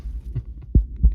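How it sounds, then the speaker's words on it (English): A heartbeat from a video game, two soft, deep thumps at a slow pace over a low hum. "That's a heartbeat."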